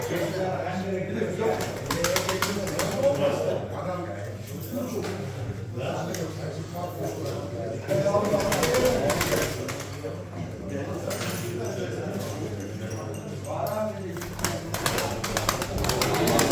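Pigeons coo in soft, repeated murmurs at a Turkish bird auction while people talk over them, with occasional knocks and shuffling nearby.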